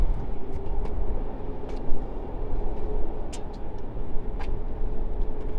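A distant aircraft engine at Melbourne Airport spools up as a steady low rumbling roar, continuous and moderately loud under wind noise, with a few faint clicks and knocks nearby.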